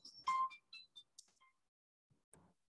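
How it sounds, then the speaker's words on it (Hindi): A short electronic phone ringtone plays in a quiet room, a few bright melodic beeps in quick succession that fade out after about a second, followed by faint rustling. "कौन फोन कर रहा है? मैं इस टाइम फोन नहीं पकड़ूंगा."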